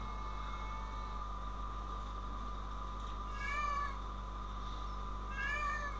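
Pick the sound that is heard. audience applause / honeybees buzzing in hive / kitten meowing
kitten meowing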